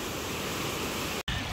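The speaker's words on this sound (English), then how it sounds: "There's even water running down to the creek from here." Steady rushing of water running down toward a creek after rain on a gravel hiking trail at Big Soddy Creek Gulf, a constant hiss with one brief dropout, no talking.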